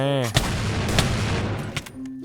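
Video game gunfire, with a few sharp, loud shots cracking out at intervals over a steady background rumble, preceded by a brief tonal sound at the start.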